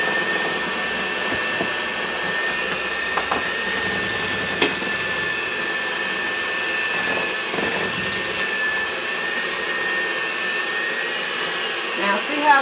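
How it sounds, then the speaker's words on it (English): An electric mixer whirs steadily while blending sour cream batter, a loud continuous motor whine with occasional clinks against the bowl. "That's blending quite nicely. I'm going to increase my speed just a little."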